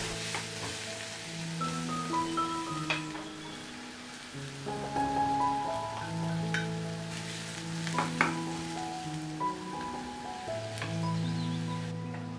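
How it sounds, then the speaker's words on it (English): Chopped onion, green chilies and curry leaves sauté in oil with a soft, steady sizzle and light crackle under a gentle melody of background music. "saute chopped onion, green chilies, and curry leaves"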